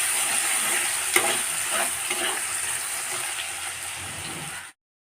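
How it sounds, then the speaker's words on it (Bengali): Chopped onion fries in a pan and is stirred, giving a steady, close sizzle with scraping stir strokes over it, until the sound stops suddenly near the end. "এই সময় আমি পেঁয়াজ কুচিটা ছেড়ে দেব। ছেড়ে দিয়ে ভালো করে নাড়ব।"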